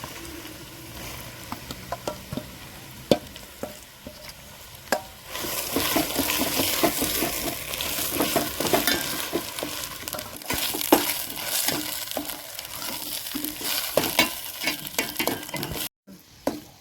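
Ground coriander leaf thokku paste fried and stirred in a pan: quiet sporadic scrapes at first, then a louder continuous sizzle with repeated stirring clicks and scrapes, close up, with no speech.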